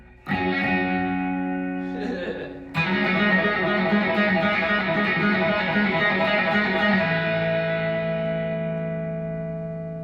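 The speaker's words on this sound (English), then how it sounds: "Can't believe we're doing this much distortion on the first half of the set." A live music set played through heavy distortion, with sustained, buzzing chords that ring out continuously at steady volume, then swell again after a brief dip and slowly fade toward the end.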